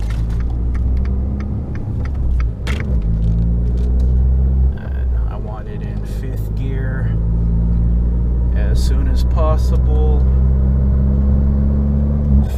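Fiat 500 Abarth small car cruising up to freeway speed in top gear, a steady low engine and road rumble running throughout with a driver talking over it.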